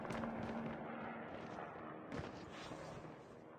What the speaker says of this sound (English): Explosion here. Apparently that was a helicopter.